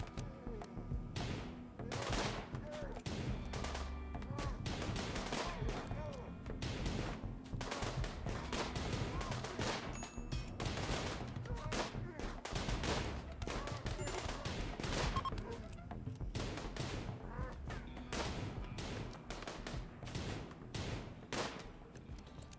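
Four guns fire in a video game firefight, rapid crackling volleys of shots and bursts repeating steadily throughout, loud and close with no talking.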